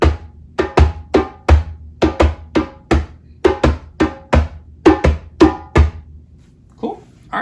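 Hand drum baseline groove played at a quicker tempo, with steady bass and open strokes struck in a regular pattern close by, then a brief faint voice at the end.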